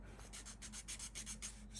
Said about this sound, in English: so I've got a sanding stick and I'm just going to